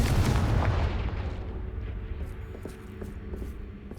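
Spell blast in a Harry Potter video game, set in a haunted Hogsmeade shop: a loud, booming explosion at the start that rolls off into a rumbling decay, with a few faint crackling debris pops trailing after.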